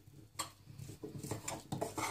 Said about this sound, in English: Just mix this and we are going to fry this in oil.